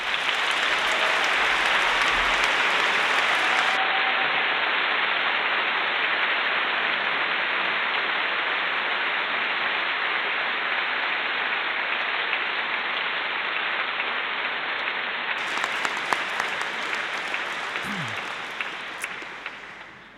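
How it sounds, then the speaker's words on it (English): A large crowd of graduates and guests claps steadily at a graduation ceremony, a dense, loud wash of applause that holds for about twenty seconds and only starts to thin near the end. "give yourselves a round of applause"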